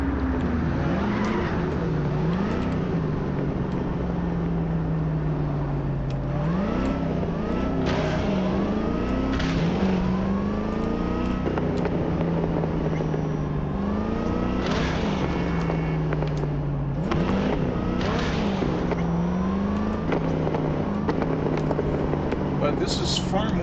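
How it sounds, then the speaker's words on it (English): A video game car's engine drones and revs continuously, its pitch rising and falling as it drives and shifts, with a rough, questionable tone and no break in the noise. "engine's noise sounds kind of questionable, and it doesn't handle very well"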